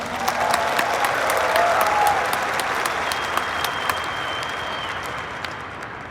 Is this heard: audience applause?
yes